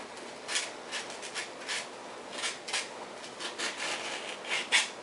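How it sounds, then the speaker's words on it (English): Coarse sandpaper roughing up a surface on a Freewing T-45 90mm model jet, short scratchy strokes repeated in an uneven rhythm, close and moderately loud, with no voices. "I use a real coarse sandpaper."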